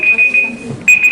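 A loud classroom timer alarm beeps in steady high-pitched bursts with brief gaps, sounding close and shrill while people talk underneath.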